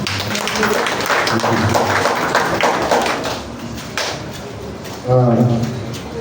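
A round of applause for a local government chairman at an inauguration gathering in Agbor, Delta State: scattered, uneven hand clapping from a crowd, mixed with voices and a louder voice near the end.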